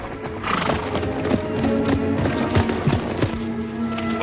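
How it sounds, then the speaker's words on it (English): Three horses run loose in a pasture, hooves clip-clopping in an uneven patter while several loud neighs and whinnies ring out over the top. "3 horses got out of the corral last night and they're running loose out there in the pasture."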